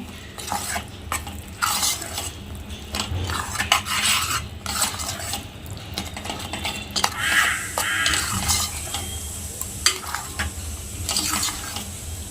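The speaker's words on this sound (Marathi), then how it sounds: "ते पण आपण मटकी आणि बरोबर चांगलं मिक्स करून घेऊया" Moth beans get stirred together with a ground onion-coconut paste for misal, a spoon clanking and scraping busily against a metal pan over a soft sizzle, close up with irregular bursts and no speech.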